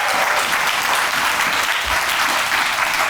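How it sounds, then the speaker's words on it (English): A dense, loud round of audience applause at the AURA Innovation Square ribbon cutting, honoring Denise Van Leer; continuous, even clapping from many hands throughout, with no talking. "can we give another round of applause to my friend, my sister, Denise Van Leer for her."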